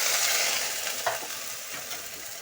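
Kalonji and garlic paste thinned with water hisses as it drops into hot oil for a gathi kochu (taro) curry, a steady close broadband sizzle with a slight flare near the middle, no talking.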